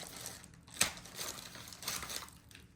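Plastic wrapping crinkles softly in short bursts, with one sharper crackle near the start; quiet and close, no voices.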